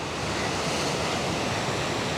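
Indian Ocean surf breaking on the beach at Colombo, Sri Lanka, a steady, loud, unbroken wash of waves with wind noise, no voices.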